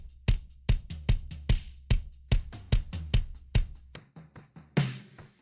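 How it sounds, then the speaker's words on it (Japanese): Raw kick drum from a studio multitrack recording session, struck in a driving pattern of repeated punchy, booming hits with a few quicker doubles, played alone and close-miked. "これが生のキックの音なんですけど、"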